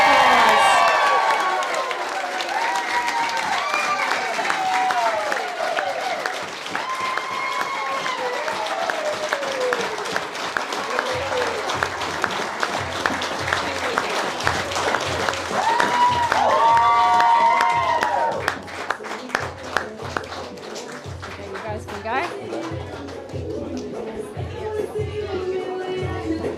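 Wedding guests at a ceremony applaud and cheer the newly married couple, with loud sustained clapping, whoops and excited shouts layered throughout, then the noise thins into scattered claps and chatter toward the end.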